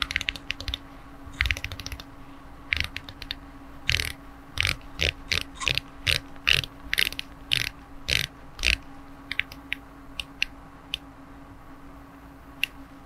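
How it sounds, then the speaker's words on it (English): Aluminium unidirectional dive bezel on a Seiko Samurai SRPL11 watch being turned by hand, giving a series of crisp close ratcheting clicks, some in quick bursts and some spaced apart, over a quiet hum. "It turns unidirectionally like a dive watch should, and let's go ahead and test that action."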